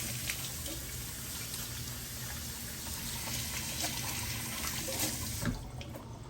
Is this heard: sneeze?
no